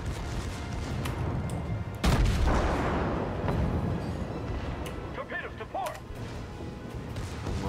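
Heavy naval gunfire from a World of Warships battle, a loud deep blast followed by rumbling booms and scattered secondary-armament shots, with someone talking over part of it.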